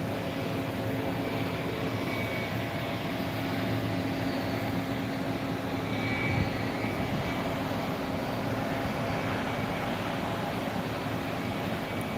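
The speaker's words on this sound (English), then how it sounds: "Is the final approach for Etihad" An Etihad Boeing 787 Dreamliner on final approach to Phuket airport gives a steady, distant jet roar that holds at an even level throughout, with no talk over it.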